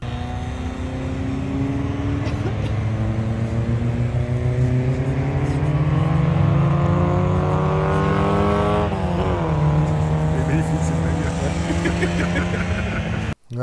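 A Citroën AX GT drives out onto a race circuit. Its engine revs climb steadily in pitch as the car accelerates, with a brief shift partway through, loud and close throughout.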